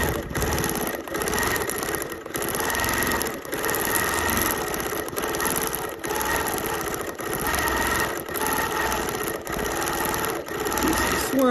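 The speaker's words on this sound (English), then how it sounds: "So I'm just gonna keep quilting here." A sewing machine free-motion quilting a fabric collage quilt whirs steadily at close range, its motor running in continuous bursts with brief pauses between stitching runs.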